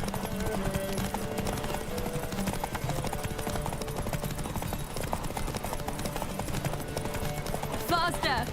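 Horse galloping in The Witcher 3 video game, a fast, steady clip-clop of hooves on the ground, fairly quiet, with game sounds underneath and a short bright tone near the end.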